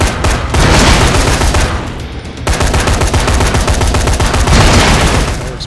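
Loud, dense automatic gunfire from a floating gun in Dead Rising 3, sustained bursts of rapid shots with a brief dip midway, heard alone.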